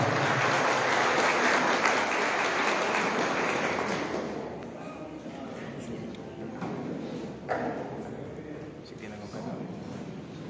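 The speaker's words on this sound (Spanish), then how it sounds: "Un aplauso para José Emilio Báez Minaya." Loud crowd applause fills the opening seconds, then thins and fades into scattered claps and room noise.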